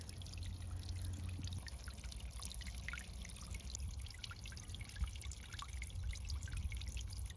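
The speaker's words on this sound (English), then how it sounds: "the solar fountain I ordered finally came in the mail, and it is adding the perfect little magical touch to this patio pond" A small solar fountain trickles water into a patio pond, giving a soft, steady dribble with faint splashes. It runs quietly and continuously, with nobody talking.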